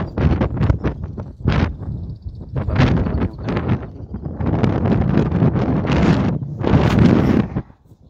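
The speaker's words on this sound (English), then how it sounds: "I might be blown away by this strong wind." Strong wind gusts on Areopagus Hill in Athens buffet the microphone in loud, irregular bursts separated by brief lulls, close and harsh, with no voices.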